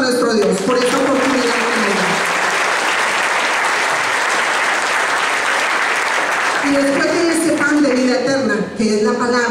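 Sustained applause from a church congregation giving praise to God at a Spanish-language worship gathering, loud and continuous for the whole stretch, with voices audible at the start and again near the end.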